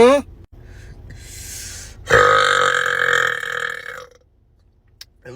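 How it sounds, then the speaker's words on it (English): A deep, drawn-out burp rumbles loud and close for about two seconds, following a brief breathy intake, with quiet room noise before and after. "At least do the burp right."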